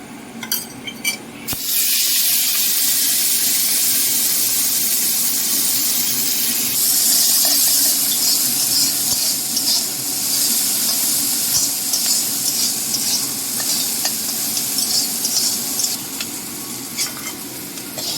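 Loud, steady sizzling of prawns frying in hot mustard oil in a kadai crackles on for many seconds, with occasional stirring and spattering bursts close by.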